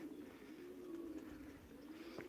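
Soft, low pigeon cooing drones steadily nearby inside a pigeon loft, a quiet enclosed space, with a faint chirp near the end.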